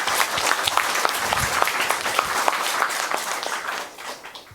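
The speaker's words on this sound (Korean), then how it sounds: "이왕 뭐 박수할 거면 힘차게 하시죠." An audience at a declaration ceremony applauds strongly, a thick, sustained roar of many hands with a few sharper claps standing out, easing slightly near the end.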